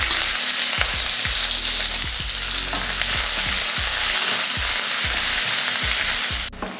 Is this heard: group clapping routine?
no